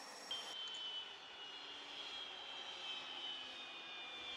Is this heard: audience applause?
no